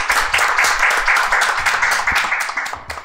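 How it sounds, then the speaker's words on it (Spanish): Steady applause from an audience, dense clapping sustained at full strength before easing off slightly toward the end. "les quiero dar un fuerte aplauso"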